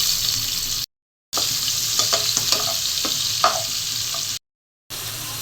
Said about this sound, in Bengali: ইলিশ মাছের মাথাগুলো ভেজে নিলাম